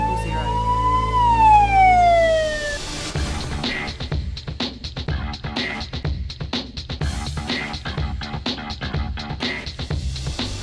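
A loud ambulance siren in Tasmania, Australia wails with a falling tone, then shifts into a rapid yelping pattern that continues steadily, close and prominent.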